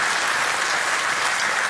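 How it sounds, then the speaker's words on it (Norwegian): Dense, steady applause from an audience at a Rockheim Hall of Fame 2016 ceremony, filling the short clip at even loudness without pause. "Applaus."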